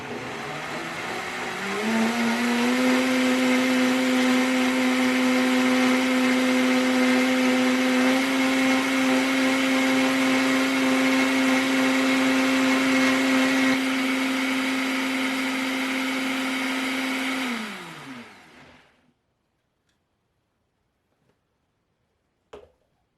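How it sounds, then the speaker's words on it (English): A blender puréeing fava bean soup spins up and whirs steadily at high speed for about fifteen seconds, then winds down and stops, leaving near silence. "Now, turn it on low, then slowly bring it to high, blending it until it is smooth"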